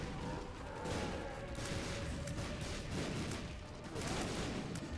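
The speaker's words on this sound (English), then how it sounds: "There's explosions going off everywhere." Dense overlapping blasts and explosions from The Binding of Isaac video game fill the space continuously, a busy layered barrage of game combat effects with a faint tonal line running underneath.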